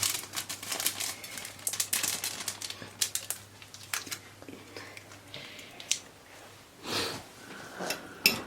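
Crinkling of a plastic spice packet from Korean instant noodles, several crisp rustles and crackles close up in a quiet room, with brief louder crumples near the end.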